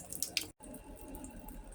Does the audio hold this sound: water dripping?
yes